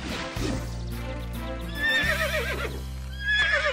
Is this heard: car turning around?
no